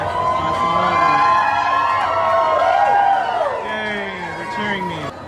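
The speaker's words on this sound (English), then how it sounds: "They're cheering me." A crowd at the opening day of Galaxy's Edge, where the path leads in from Frontierland, cheers and whoops steadily. Many overlapping voices rise and fall together at a loud, constant level for several seconds.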